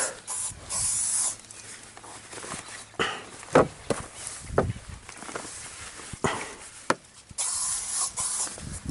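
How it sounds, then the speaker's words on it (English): Several short hissing bursts of an aerosol tick repellent spray close up, interspersed with rustling and a few faint dog barks. "Tick spray."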